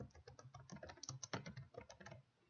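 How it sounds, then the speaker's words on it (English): Rapid, light keystrokes patter on a computer keyboard as a search term is typed into a library catalog, close and quiet, with no talk. "type in climate change again"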